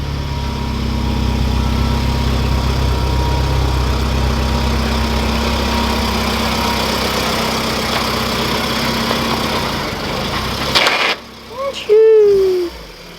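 A B18C5-swapped Honda Integra running on a dyno, its engine droning loudly and steadily before cutting off, followed by a brief rising whine and thumps as it winds down.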